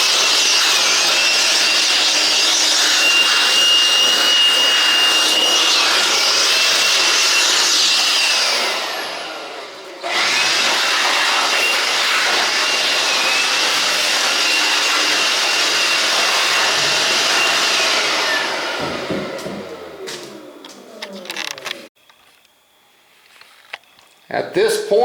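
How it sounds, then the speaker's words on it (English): Compressed air blasts sawdust off a newly built reloading workbench and the shop floor, a loud continuous hissing roar that briefly dips and changes, then sputters into short bursts near the end. "So I'm going to blow this thing off and blow the floor"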